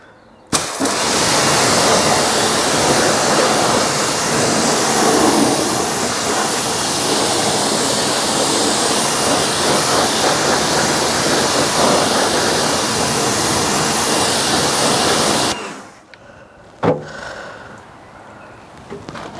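A jet of water sprays car wheels and tyres during a hand wash, giving a loud, steady hiss that runs unbroken for about fifteen seconds before cutting off, followed by a few faint knocks and handling sounds.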